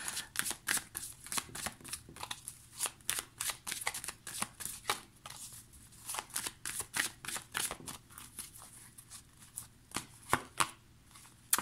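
Tarot cards are handled and shuffled from a deck, a quick run of crisp papery flicks and riffles that repeats steadily and closely, with no talking.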